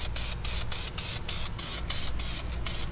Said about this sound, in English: throw your paint on there.